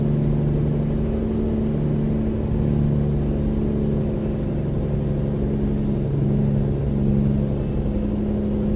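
Peterbilt 389 truck engine in American Truck Simulator pulling up a hill in fourth gear, a loud steady low diesel drone with a constant whine above it, running alone without a break.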